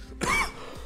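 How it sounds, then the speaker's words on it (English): A single short, throaty cough sounds once, fairly close, in an otherwise quiet moment. "Sometimes it triggers a cough there."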